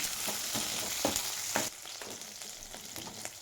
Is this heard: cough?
no